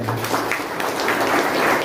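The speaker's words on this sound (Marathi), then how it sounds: "पहिलं जोरदार गावडे साहेबांसाठी टाळ्या होत्या" An audience claps steadily in a dense, continuous wash of applause at a district ceremony honouring meritorious tenth and twelfth grade students, lasting the whole moment without a break.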